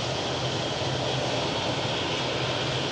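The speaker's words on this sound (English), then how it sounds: "you can see that EasyJet, look, taking off over the mountains there" An EasyJet airliner takes off over mountains in Lanzarote, its jet engines giving a loud, steady broadband roar that holds unbroken throughout with no voices.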